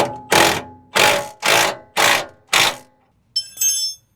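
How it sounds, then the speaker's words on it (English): Impact wrench firing five loud, evenly spaced bursts close up while snugging a lower control arm bolt on a 4th-gen Toyota 4Runner, followed by a brief metallic rattle. "get my impact so I can get it pretty much almost tight"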